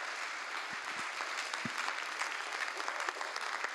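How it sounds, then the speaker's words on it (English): Audience at a college flex day event applauding, a soft steady patter of many hands clapping at moderate distance, with a few closer individual claps standing out near the start. "Let's give them a round of applause."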